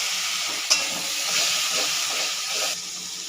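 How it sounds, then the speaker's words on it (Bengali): Water poured into a hot pan of spiced raw banana mixture sets off a steady sizzling hiss while it is stirred, with a brief clink near the start, close and fairly loud. "একটু জল দিয়ে দেবো।"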